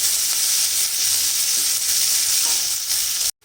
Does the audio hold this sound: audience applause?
no